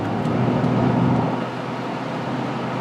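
A 2005 Saturn Vue AWD cruising smoothly down the road, a steady close cabin rumble of engine and tyre noise that eases slightly partway through, with no talking.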